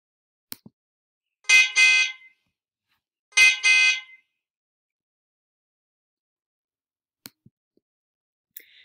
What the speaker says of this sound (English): I hear the horn.